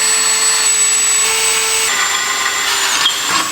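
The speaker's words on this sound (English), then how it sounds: "My favorite thing, more drilling." A power drill boring holes through a steel tube for a homemade shop crane, a loud, close, steady high motor whine that shifts pitch as the bit cuts through the metal.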